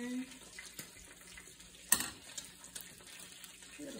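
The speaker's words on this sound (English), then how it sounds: "dropping it on the seam side down into the butter that is melted butter" French toast apple rolls dropped into melted butter in a pan, a soft, low sizzle with one sharp splashy hit near the middle and faint scattered crackles.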